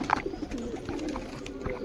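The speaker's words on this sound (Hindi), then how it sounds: "अभी हमने कबूतर फल डाले हैं सारे और रोटी डाली है, खा रहे हो" Pigeons feeding on scattered fruit and bread, with soft low coos and faint chirps over a steady background of birds and movement, close and continuous.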